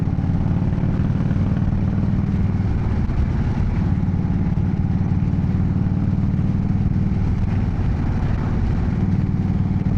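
An American cruiser motorcycle rides along UK roads, its engine a steady, close, low throbbing rumble that holds unbroken throughout with no talk.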